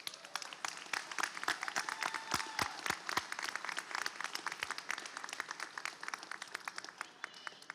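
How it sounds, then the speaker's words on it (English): Sustained applause from a graduation ceremony audience honoring graduates' family members, a dense steady patter of many hands clapping with no break, moderately distant in a large hall. "So give them a round of applause"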